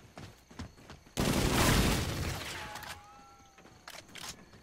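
A grenade blast in a zombies shooter game, one loud burst at about one second that fades slowly, with scattered smaller bangs and mechanical clatter before and after.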